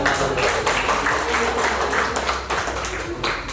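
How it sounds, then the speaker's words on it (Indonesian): An audience at a teacher training session at an Islamic primary school claps together, a dense, loud patter of hands that continues steadily throughout. "Tepuk tangan dong buat"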